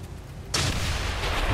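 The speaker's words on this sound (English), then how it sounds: "And shoot the claymore." A claymore detonates in the video game XCOM 2: a sudden loud explosion bursts after a brief quiet moment and its rumble lingers, with no talking over it.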